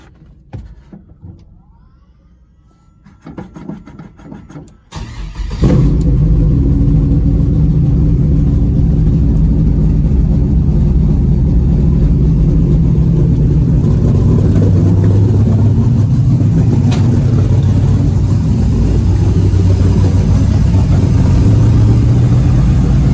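A second-generation Pontiac Firebird with an LS engine swap starts up and settles into a loud, steady idle that runs alone and close by for the rest of the clip, following a few seconds of quiet.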